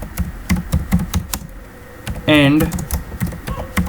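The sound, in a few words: typing C code on a computer keyboard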